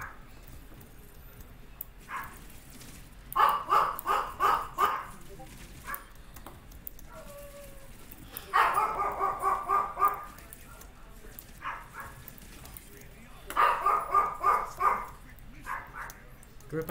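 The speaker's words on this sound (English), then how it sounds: "my dog's barking" A dog barks nearby in three separate bursts of rapid, repeated barks, with quieter background sound between the bursts.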